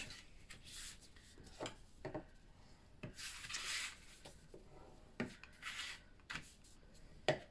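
Soft, faint rubbing and scraping of a tool burnishing folded paper score lines on a handmade mini album, in short irregular strokes close by with brief pauses between.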